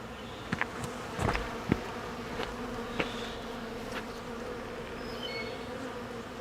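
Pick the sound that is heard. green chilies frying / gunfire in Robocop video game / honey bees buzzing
honey bees buzzing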